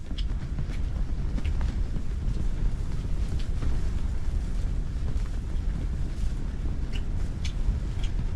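Wind blows across frozen Lake St Clair during perch ice fishing, a steady, fairly loud broadband rush and rumble buffeting the microphone throughout with no talking.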